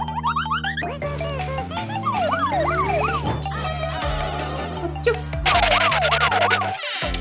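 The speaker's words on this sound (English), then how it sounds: "Wow, A, ambulance." A cartoonish ambulance siren wails up and down over bouncy electronic music from a children's toy-vehicle animation, with springy boing effects throughout.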